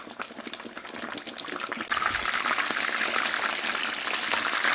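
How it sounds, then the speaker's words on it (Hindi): Coated fish fries in oil over a medium flame, a close, steady sizzle that jumps louder partway through as fresh pieces go into the pan, then keeps crackling evenly. "ये मीडियम फ्लेम पे मैं इसको फ्राई कर रही हूँ।"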